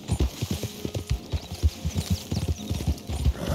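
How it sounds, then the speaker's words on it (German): Horse hooves gallop in Red Dead Redemption 2, a fast steady clip-clop rhythm of close, distinct hoofbeats that repeats evenly throughout, with no talk over it. "Und ab geht das Pferd."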